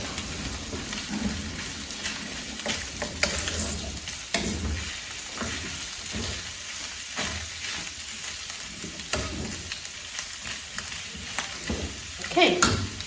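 Peppers sizzle steadily in a hot pan for event catering, a continuous hiss broken by repeated scraping stirs and clinks, close and moderately loud throughout, with a brief clatter near the end.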